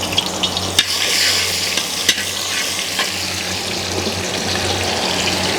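Small onions fry in hot coconut oil in an uruli, with a loud, steady close sizzle and a few sharp clinks and scrapes of stirring over it.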